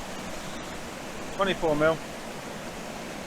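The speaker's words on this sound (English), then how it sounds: "You can see the waterfall just here" A waterfall in Glencoe, Scotland, gives a steady broadband rush throughout, with a brief spoken phrase over it midway.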